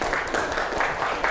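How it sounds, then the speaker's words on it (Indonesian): Students clapping together in a classroom, a short burst of brisk, fairly close applause. "Kasih tepuk tangan dong."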